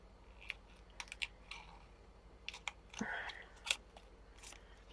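Metal-backed label tape is snipped off with scissors in a few faint, crisp clicks and snips, plus a brief rustle, all alone in a quiet room.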